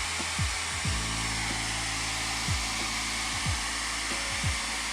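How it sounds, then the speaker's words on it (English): A hair dryer blows steadily to heat 3M tape on a Genesis Coupe 3.8, a loud, constant airy whoosh with a few low thumps as it moves, and no talk. "I think I'm gonna grab a hairdryer though real quick and hit it with that"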